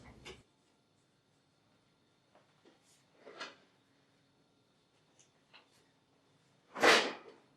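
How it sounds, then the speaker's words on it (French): A protective panel is refitted inside a coffee machine and its door shut, a few faint clicks and knocks in near silence ending in one sharp, louder snap of the door closing. "Réinstallez le panneau de protection dans la machine et fermez la porte."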